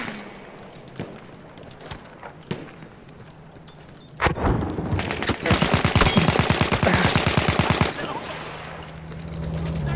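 Rapid automatic gunfire from a weapon in Battlefield 1, a loud close burst of evenly spaced shots lasting several seconds in the middle, with scattered single shots and battlefield noise around it.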